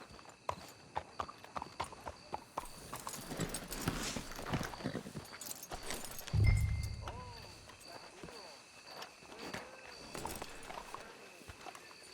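Horse hooves clip-clop in a steady rhythm, near then fading, while voices speak over the footsteps, in Red Dead Redemption 2 on PS5.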